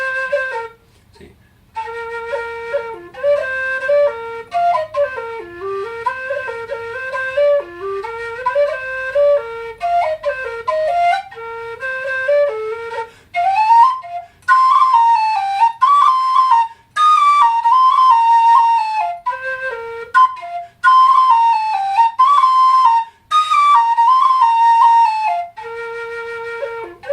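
A Chieftain Thunderbird whistle plays a bright, lively melody of quick running notes and held tones, loud and close, with brief pauses between phrases and no other sound.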